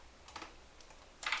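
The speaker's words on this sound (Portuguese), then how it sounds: "Deixa eu descobrir por que meu teclado travou." Someone taps a computer keyboard in a few soft, scattered keystrokes, with a louder cluster of clicks at the end, close by and quiet with no talking.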